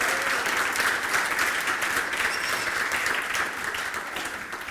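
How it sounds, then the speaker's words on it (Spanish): A large audience at a board game culture presentation gives Ludi Chile a sustained round of applause. The clapping is dense and even from the start and tapers slightly near the end. "a quienes por favor además pido un tremendo aplauso"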